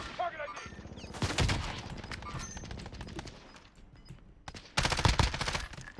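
Rapid bursts of gunfire in a Call of Duty Warzone mini battle royale match crackle in dense volleys, fading in the middle and returning loud at the end, with brief voices in the background.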